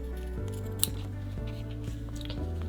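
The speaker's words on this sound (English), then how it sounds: "I'm going to push the stabilizer and the heart fabric to the back, and I'm going to just cut through one layer there" Scissors snipping through embroidery stabilizer and a layer of heart fabric on an in-the-hoop embroidered door, a few close crisp cuts over a steady low machine hum.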